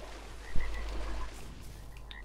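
A Beelzebufo, the giant prehistoric frog in ARK Survival Evolved on Xbox One, gives a single deep croak lasting about a second over quiet game ambience.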